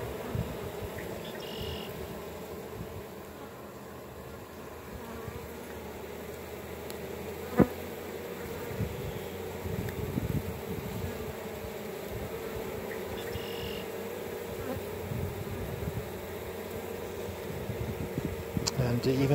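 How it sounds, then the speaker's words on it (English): Honeybee swarm clustered at a hive, a steady dense buzzing drone with bees fanning the colony scent, continuous and fairly close, one sharp click partway through. "And even some of these bees on the outer edges are fanning."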